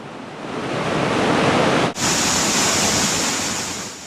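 Falling Spring waterfall in summertime, a loud, continuous roaring rush of falling water heard up close, with a brief dip midway and no talking.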